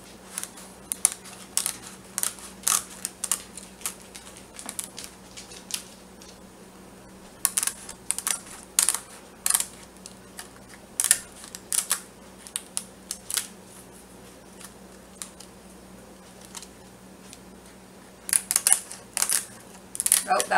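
Two sheets of rice paper being cut for rice paper bacon, a scattered series of sharp, crisp snaps and clicks in bursts, close by, over a faint steady hum.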